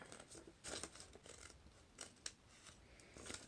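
Scissors snip through paper being cut for a flexagon, a string of short crisp cuts with small pauses between them, quiet and close with no voices.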